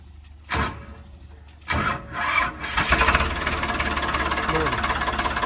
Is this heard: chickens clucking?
no